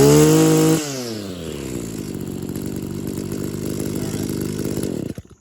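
An Echo PAS-266 powerhead's small two-stroke engine drones steadily near the microphone after a brief higher burst at the start, then cuts out abruptly at the end.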